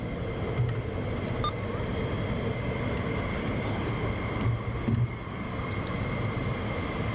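Military jets taxi at RAF Lakenheath, producing a continuous, moderately distant engine roar and whine that holds steady throughout with no talk over it.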